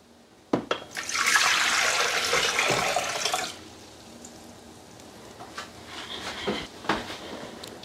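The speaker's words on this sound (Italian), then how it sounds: "Mettere nel boccale l'acqua calda." Hot water poured into a Thermomix jug splashes loudly for a few seconds after a sharp clunk, then fades to softer trickles and small knocks.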